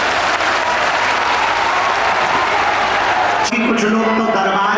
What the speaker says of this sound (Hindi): अपने लिए ही ताली बजा लो